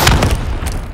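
Loud, rumbling rocket explosion in Call of Duty Black Ops 3, a heavy low boom with a dense, sustained roar that slowly fades over a second.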